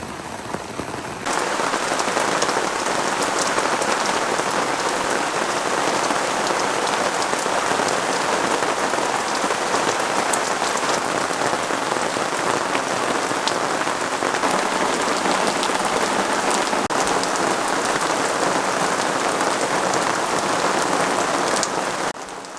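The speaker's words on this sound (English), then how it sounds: "Waking up to gentle rain on the canvas is always special, but gentle rain soon turned into a torrential downpour." Torrential downpour drumming on tent canvas during a Kruger camping trip in flood season, a loud, dense, continuous hiss of rain that holds steady from start to finish with no voices.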